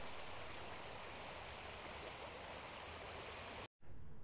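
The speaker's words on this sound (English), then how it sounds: "So absolutely stunning little brook." A small brook flows steadily on a countryside hike near Castleton, a constant soft rushing of running water that cuts off abruptly near the end.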